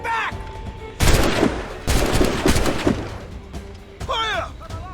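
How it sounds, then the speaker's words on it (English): Soldiers firing muskets in Assassin's Creed Rogue, with several loud, clustered volleys of shots and cracks. Shouted commands and voices are heard between the bursts. "They're shooting back!"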